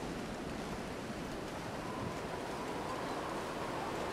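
In The Long Dark, flowing water and wind below a bridge make a soft, steady wash of broadband noise. The rushing sound is faint and unbroken, with no talk over it.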